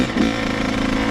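A dirt bike engine is given throttle on wet ground, producing a short, rough, chattering rev that stays loud and steady for about a second.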